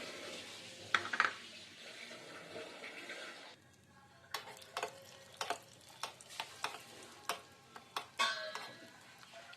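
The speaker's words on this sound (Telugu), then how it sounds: "జీడిపప్పుల్ని ఇలా వేయించుకొని" Cashew pieces fry in ghee in a pan, a soft sizzle first, then a run of sharp ticks and scrapes as a spoon stirs them, close and fairly quiet.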